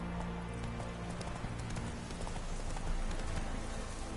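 Roach, Geralt's horse in The Witcher 3, gallops in a steady, rapid clip-clop of hooves over a dense game soundscape. The hoofbeats stay constant and fairly close throughout.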